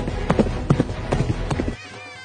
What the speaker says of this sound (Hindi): घोड़ा दूल्हा लेके भाग गया।